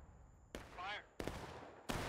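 Musket volleys ring out in the Civil War video game War of Rights on the School House Ridge map, with three sharp, crackling bursts of massed fire separated by short gaps. A shouting voice is heard between the first two.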